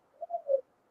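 Birds coo in a Star Wars animated series scene, a short soft three-note call rising and falling, alone against silence.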